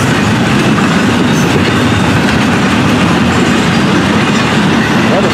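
A Florida East Coast freight train with stacked cars rolls past close by, a steady loud roar of wheels and rail clatter that holds constant throughout, with no voices.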